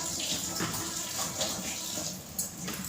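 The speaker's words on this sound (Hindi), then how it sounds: "दाल के डिब्बे ध्यान से धुलने पड़ते हैं" Water runs steadily from a tap over lentil storage containers being washed in a home kitchen during festive cleaning, a soft continuous splashing with faint clatters, no talking.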